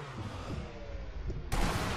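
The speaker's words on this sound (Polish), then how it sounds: "Mamy dźwięk pocisku, strzał." A muffled rifle shot in Sniper Elite V2 cracks sharply near the end, after a low rumbling ambience in a canyon, with a brief bright burst of noise.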